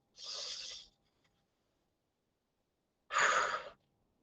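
Two open-mouthed exhales from a sky breath breathing exercise, each a breathy rush lasting under a second, separated by a few seconds of silence, close and fairly loud.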